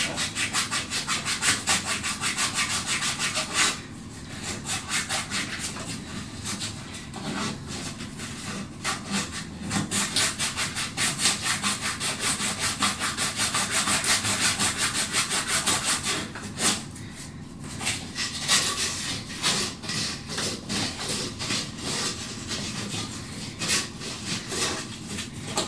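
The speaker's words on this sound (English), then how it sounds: "I'm using 220 grit. I want to use fine." Fine 220 grit sandpaper rubs back and forth on an old plumbing fitting in a quick, steady scratching rhythm, close and continuous, with no talk.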